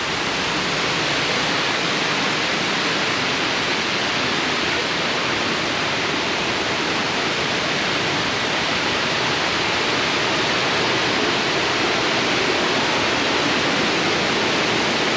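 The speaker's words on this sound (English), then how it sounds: "That is some serious water flow going on there." Heavy water pours over a weir in full flow, a loud, unbroken roar of rushing water close by, steady from start to finish.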